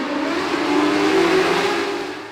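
A Modlite race car's exhaust system revs hard and close, a loud steady engine drone that swells slightly in the middle and tapers at the end, with no voices.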